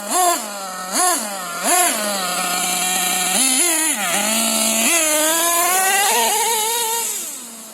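A Hobao Hyper MT nitro RC truck's small engine buzzes high and loud, blipping through three quick revs, then holds a raised, whining idle with slight wavering.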